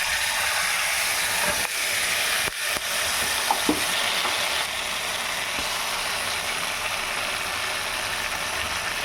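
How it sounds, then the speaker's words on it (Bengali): Hilsa fish frying in a hot wok, a steady loud sizzle filling the whole stretch, with a few brief clatters and knocks near the start and no talking. "কড়াই আমার গরম হয়ে গেছে। এবার আমি এর মধ্যে ইলিশগুলো দিয়ে দেবো।"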